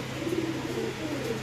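Pakistani pigeons coo in a low, continuous murmur at a bird market, the soft rolling calls steady throughout with no pauses.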